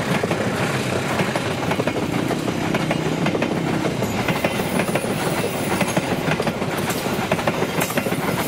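The KA Brantas passenger train rolls past close by on the rails. A loud, steady roar is broken by rhythmic clickety-clack from the wheels over the joints, with faint squeals near the end.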